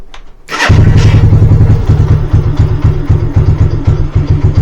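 A Lifan King motorcycle that has not run in some time starts with a sharp catch, then idles loud and close with a rough, pulsing beat that wavers slightly as it struggles to keep going.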